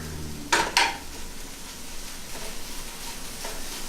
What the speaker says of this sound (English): So once that's mixed around, I like to mix it evenly just so every bite is kind of the same.